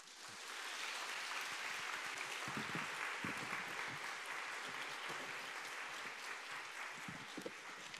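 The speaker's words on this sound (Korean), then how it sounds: "큰 박수로 우리 해주시면 감사하겠습니다" Audience applause after a university special lecture on theology, steady dense clapping from a large hall crowd, sustained and even for the whole stretch, heard at a distance.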